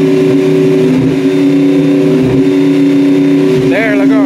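Dodge Magnum R/T on a throttle blip, its engine holding a steady loud drone throughout with a voice speaking briefly near the end.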